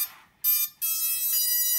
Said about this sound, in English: this is the wrong kind of beep if I'm trying to do a calibration